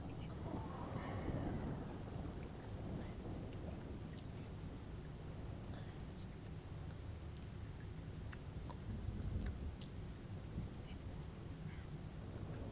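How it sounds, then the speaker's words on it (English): Rain in the video game Alone in the Dark: a steady, dense hiss of rainfall with low rumbling, continuous and moderately quiet throughout, no speech over it. "It does sound like rain, though."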